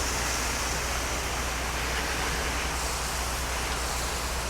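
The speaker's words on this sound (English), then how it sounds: "Just rinse the whole thing down, top to bottom." Water spray rinsing cedar wood siding from top to bottom, a steady, dense broadband hiss and rush with no breaks, close and continuous, like a pressure washer stream splashing on wood.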